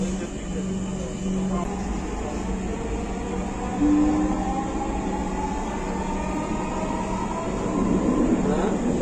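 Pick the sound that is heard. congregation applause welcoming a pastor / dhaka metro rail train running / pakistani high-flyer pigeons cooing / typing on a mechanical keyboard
dhaka metro rail train running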